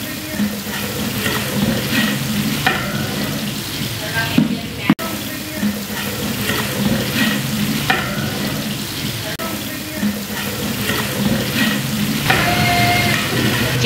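Tomatoes and green chilli paste fry in a large pot for chicken yakhni pulao, giving a loud, steady sizzle with stirring scrapes and a sharp clank partway through.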